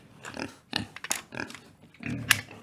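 Grunting pig sounds from a children's Bible class play about the prodigal son: a series of short, rough, throaty grunts in uneven bursts, fairly close and moderately loud, without other talk.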